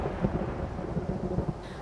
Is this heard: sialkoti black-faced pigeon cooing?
no